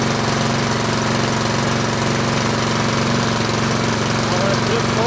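A Troy-Bilt Storm 2840 snow blower engine runs steadily in the cold, a loud, continuous mechanical drone with a rapid rhythmic chug that holds an even level throughout.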